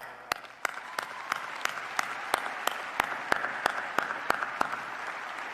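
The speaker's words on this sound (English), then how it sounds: "Round of applause" Audience applause at a spring commencement ceremony for a school of journalism and media, with one close pair of hands clapping in a steady, regular beat over a wash of crowd clapping.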